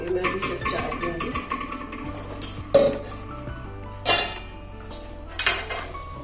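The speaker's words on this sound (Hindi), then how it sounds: "अभी मैं कैसरोल में भर के रख रही हूँ" Food being spooned into a casserole dish, with metal utensils clinking and scraping against the dish and a few sharp, bright clanks standing out, close and without voices.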